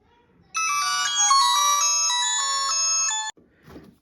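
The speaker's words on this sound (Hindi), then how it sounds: "इसमें ये रिंग टोन की ऑप्शन है, रिंग टोन वॉल्यूम मैं आपको सुनाता हूँ।" Nokia 130 (2024) mobile phone ringtone played at full volume, a bright synthesized melody of stepping tones lasting about three seconds, loud and close, then cut off abruptly with a brief rustle afterward.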